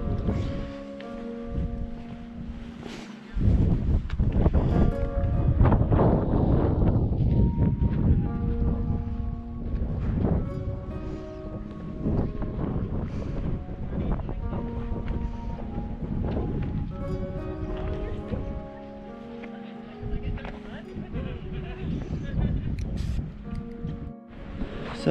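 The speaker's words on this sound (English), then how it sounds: "So it is a little windy here today." Wind buffets the microphone in gusts on a hiking trail at Hidden Valley in Joshua Tree National Park, a steady rushing roar that stays loud almost throughout with rustling texture.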